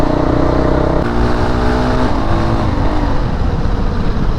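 A dirt bike engine revs on a Kathmandu street with a loud, continuous droning roar that shifts in pitch as the throttle changes, heard close with no talking.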